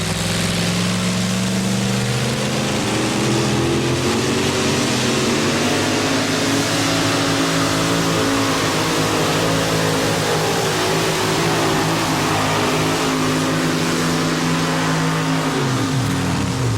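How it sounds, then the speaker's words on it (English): A modified two-wheel-drive 1988 Ford Ranger pulling truck with a blown 588 cubic inch engine roars at a truck pull event, a loud sustained engine howl with shifting pitch, dropping off near the end. "588 cubic inches of blown motor powering this modified two-wheel drive truck"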